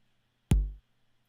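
A single electronic bass drum hit, a punchy click falling into a deep, booming low thump that fades quickly, alone against near silence.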